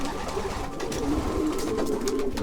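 Racing pigeons coo softly inside a loft, several low overlapping rolling calls forming a steady murmur at close range, with no talking.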